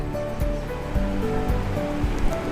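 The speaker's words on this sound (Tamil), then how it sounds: "இது கூடவே ஒரு கொத்து கருவேப்பிலையும் ஆட் பண்ணி இது நல்லா பொரியிற வரைக்கும் வெயிட் பண்ணலாம்." Curry leaves and chillies frying in hot oil for pepper rasam, giving a steady, close sizzling hiss with crackling pops throughout, no talk over it.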